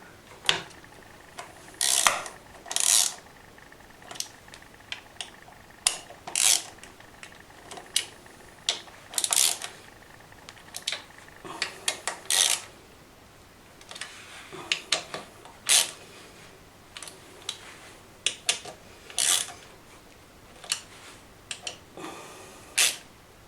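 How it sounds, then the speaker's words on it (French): Screws tightened around the transmission casing of a Typhoon, Stalker or Zip scooter with a ratchet, irregular bursts of quick clicking near and alone, with short pauses between. "nous avons donc resserré toutes les vis qui font le tour de notre carter de transmission"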